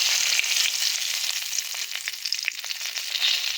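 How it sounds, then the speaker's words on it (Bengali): Whole bay leaves hit hot oil in a wok for a mutton curry, giving a close, steady sizzle with crackling bursts that rise and fall. "কড়াইয়ের মধ্যে দিয়ে দেব গোটা তেজপাতা"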